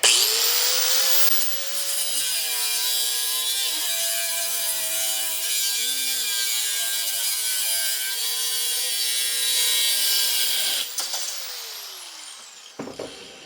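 A cut-off blade grinds through aluminum, a loud, sustained screeching whine with wavering tones that runs for about ten seconds before the blade spins down and a few clatters follow.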